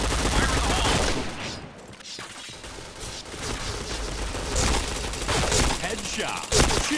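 Dense, continuous gunfire rattles through a Point Blank first-person shooter match, with rapid bursts packed tightly together and loud throughout, and brief dips between volleys.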